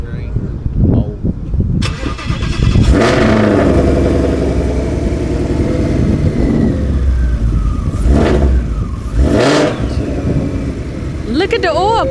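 An engine cranks and catches, then revs repeatedly in loud bursts at close range outdoors, with people talking over it and wind gusting.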